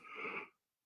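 A single breathy yawn from a person with Parkinson's, a soft rasping exhale lasting about half a second before silence.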